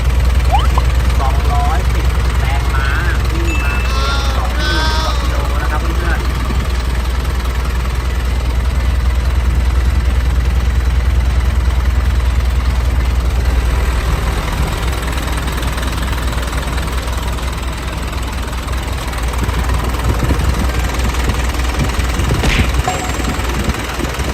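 A heavy diesel engine of an Isuzu FC9J 210-horsepower truck idles with a deep, steady rumble for the whole stretch, while someone talks over it now and then.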